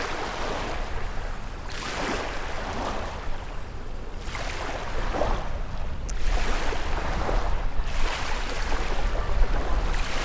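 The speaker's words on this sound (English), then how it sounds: "I like watching the energy move through the water and manifest itself in waves and foam and bubbles and sound." Ocean waves break with foam and bubbles, rising and falling in repeated surges of loud, broad, hissing surf roughly every two seconds, with no talking.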